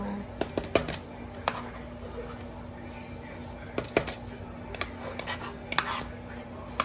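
Kitchen knife work and scissor-like snips while preparing scallions and other ingredients for stuffed trout, with scattered close clicks, cuts and soft clatter of bowls and utensils over a steady low hum.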